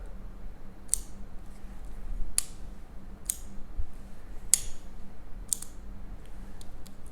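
A handful of sharp metallic clicks of CRKT folding knives, M-16 to M-40 models, snapping open, spaced irregularly over a low steady hum, close and crisp.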